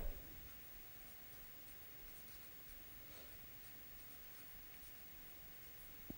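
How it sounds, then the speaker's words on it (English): A pen scratches steadily across paper at a desk, a faint continuous scratching that carries on quietly with no talking. "so let me do this on paper here."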